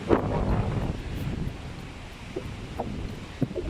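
Wind buffets the lower deck of a cruise ship at sea while ocean waves wash and rush below, with a few soft, brief knocks near the end.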